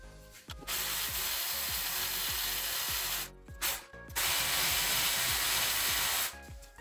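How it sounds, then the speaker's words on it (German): A hand saw rasps through a metal bolt on a VW T5/T6 Transporter coupling rod in steady back-and-forth strokes, pausing briefly twice before the harsh scraping resumes. "Ich habe mich für die Säge entschieden."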